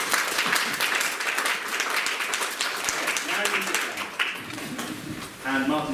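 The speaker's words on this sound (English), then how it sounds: "Can you give these guys a round of applause?" An audience at a cycling group's annual general meeting breaks into steady applause, a dense clatter of many hands filling the room while a voice speaks over it near the end.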